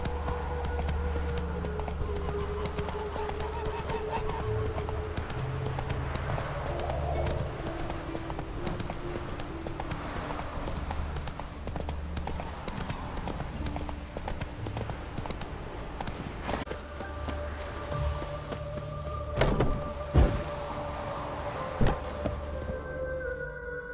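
Horse hooves clip-clop steadily through a galloping ride in The Witcher 3, with harness jingles over a continuous game ambience and a couple of sharper knocks near the end.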